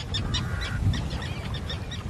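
Terns at a nesting colony on the Atlantic coast call noisily and aggressively, a busy overlapping chorus of harsh repeated cries against steady wind and background noise.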